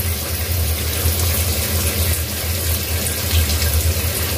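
Water runs steadily into a pot while a Bengali home meal is being cooked, a continuous close splashing hiss with no talk over it.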